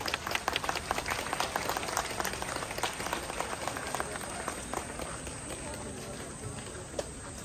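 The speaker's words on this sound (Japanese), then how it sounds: "皆様今一度大きな拍手をお願いいたします。" Large outdoor audience at Yasaka Shrine in Gion applauding after a maiko dance offering, a dense, steady wash of clapping that fills the whole stretch, with a public announcer's voice over it.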